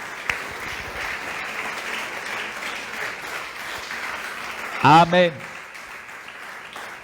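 A church congregation applauds in a steady, fairly distant wash of clapping during a Spanish-language service, briefly cut through by a preacher's voice calling out loudly over it.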